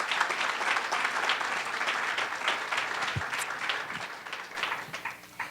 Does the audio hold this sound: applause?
yes